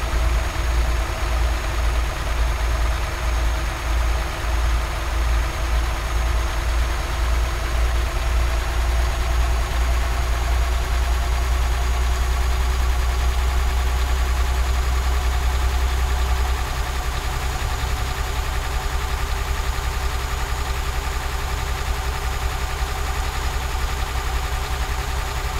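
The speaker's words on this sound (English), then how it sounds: "Pretty much know how to hear that engine roar" A heavy truck engine in Euro Truck Simulator 2 runs on a highway drive from Aberdeen to Glasgow, a steady, loud low rumble with a constant idling-like drone throughout, no voices.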